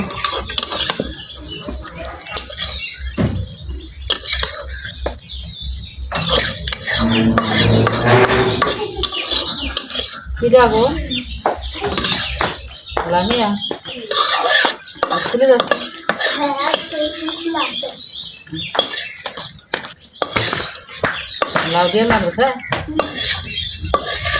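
Fried flat beans being scooped out of a pan at home, with repeated scraping and clinking of a metal utensil against the cookware in irregular bursts, some soft sizzle, and someone talking between the scoops.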